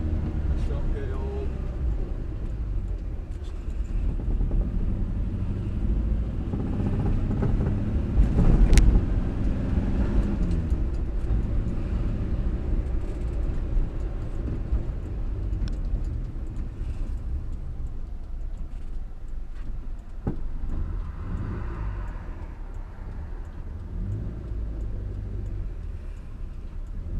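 A 1962 Morris Minor engine running rough with a misfire, heard as a steady low rumble from inside the moving car, with occasional talk over it.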